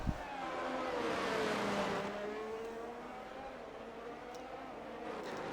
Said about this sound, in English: listening to that half engine screaming as he comes into the